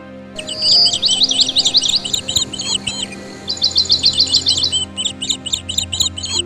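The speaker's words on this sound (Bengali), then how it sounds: "চারপাশে পাখির ডাক" Several birds chirp and twitter in rapid, repeated bursts, bright and close, with a low hum underneath.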